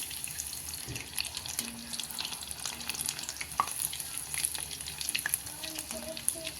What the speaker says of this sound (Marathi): किती छान तळायला लागलेली आहे